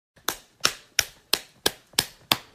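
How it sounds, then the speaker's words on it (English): Seven sharp, evenly spaced slapping claps ring out in a steady rhythm about a third of a second apart, loud and close with short decays, with no voices. "he hears some weird clapping sounds in the bathroom"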